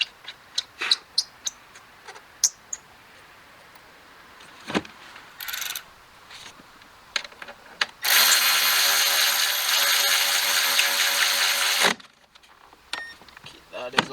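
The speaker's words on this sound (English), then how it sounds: "so now I'm just putting this bolt in" Bolt being fitted on the upper front stress bar of a Volkswagen Golf R, heard as scattered close ratchet clicks and tool taps followed by a loud, steady four-second burst of a power tool spinning the bolt in.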